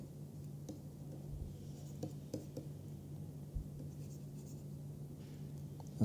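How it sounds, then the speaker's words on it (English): Hand writing during a mathematics lecture on product topology: faint, scattered tapping and scratching strokes of a pen or chalk over a low steady hum, in a quiet room with no talking. "let me just write down."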